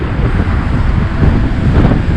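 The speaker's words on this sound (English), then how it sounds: "Man, this wind is getting crazy." Strong wind buffets the microphone while walking through Mile Square Park, a loud, continuous roaring rumble with no pauses.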